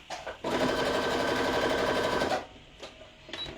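A sewing machine stitches fabric for a playing card holder in one steady, fast, close run of about two seconds, then stops, followed by a few faint handling sounds.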